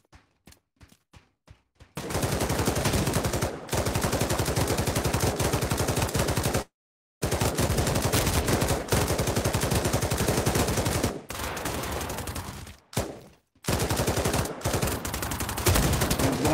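Bursts of automatic gunfire in the VR shooter Pavlov Shack, loud and close, in long sustained rapid strings broken by short silent gaps, starting with a few isolated single shots.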